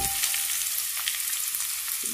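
Chopped onion for a Brazilian picadinho de mamão hitting a hot pan, a steady close frying hiss with a faint thump at the start and a brief knock near the end.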